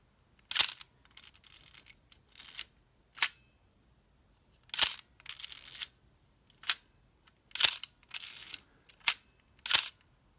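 A Nikon FA camera with a titanium vertical shutter fires about a dozen times in a row. Each release is a sharp, close click, mixed with short scraping winding sounds between shots, in a quiet room with no talk.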